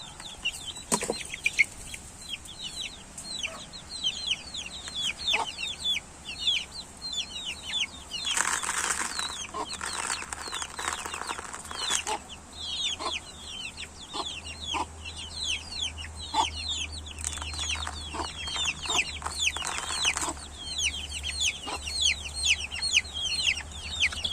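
A mother hen clucks repeatedly from behind while chicks peep in a dense, continuous chorus, with bursts of wing flapping and scuffling among farmyard fowl; no one speaks.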